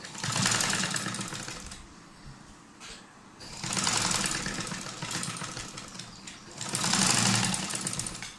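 Sewing machine stitching along a paper strip during a beginner tailoring lesson, in three close bursts of rapid whirring with brief pauses between.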